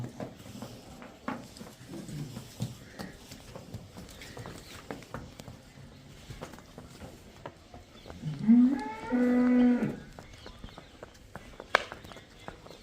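One deep, drawn-out buffalo moo rises partway through, close by, amid quiet rustling, shuffling and faint farmyard noises.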